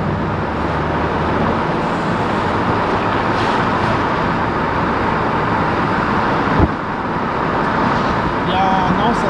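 Interior road noise in a 2002 Renault Avantime 2.0t 165 Dynamique cruising at 70-80 km/h, a steady broadband rumble and hiss of tyres and wind filling the cabin with no let-up.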